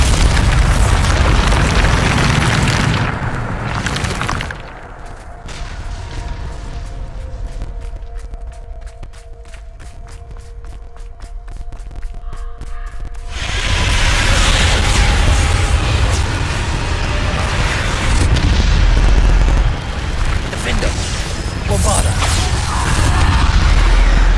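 Bombarda spell blasts in the Hogwarts Legacy video game, loud booming explosions with heavy low rumble, a quieter crackling lull in the middle, then another sustained roaring blast.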